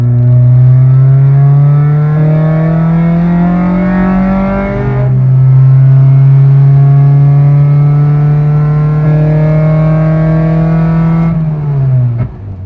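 An 8th-generation Honda Civic Si with a tune revs loudly and close by, its engine holding high steady revs, dropping briefly, climbing again and sustaining before falling off at the end.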